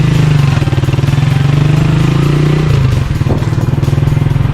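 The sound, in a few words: motorcycle engine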